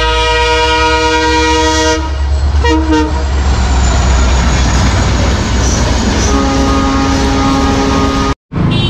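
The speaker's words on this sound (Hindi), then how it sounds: "आ गया गाइस ट्रेन" A passing train sounds long, loud blaring horn blasts, a short one and then a sustained one, over a heavy continuous rumble of rolling wheels at close range.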